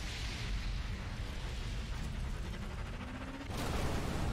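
Game explosions in Sniper Elite III rumble loud and continuous, a dense broadband roar with deep low-end that swells again near the end, no voices present.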